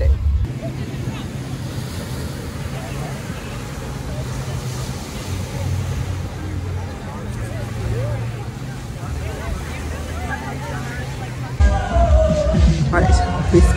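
Ocean surf rolls in at Coco Cay Hideaway Beach, a Bimini cruise stop, as a steady wash under heavy wind buffeting the microphone. A low droning hum runs beneath it, and a louder gusty burst comes near the end.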